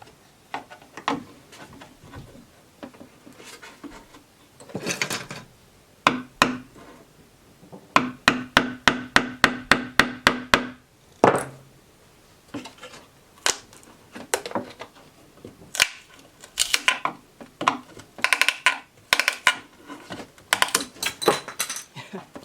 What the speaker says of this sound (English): So that seemed to work just by kind of hammering in a little bit with the screwdriver.